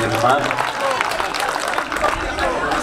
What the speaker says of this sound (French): je demande des applaudissements à nos chers professeurs